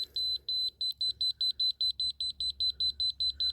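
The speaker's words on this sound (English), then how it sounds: "So see, you hear it beeping." An electronic level detector beeps high and fast in a steady rhythm, about four beeps per second, while leveling a floor base, fairly close and clear with a faint low hum beneath.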